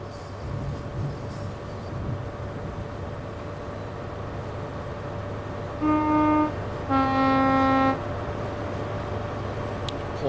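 A diesel train horn from Train Sim World 6 on the Great Western Thames Valley branches sounds in two blasts, a shorter one then a longer one, over a steady rumble of engine and rain.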